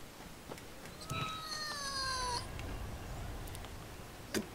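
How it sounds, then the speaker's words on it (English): A pet cat lets out a single drawn-out meow, fairly faint, amid quiet room noise and a few soft knocks. "That would be my cat."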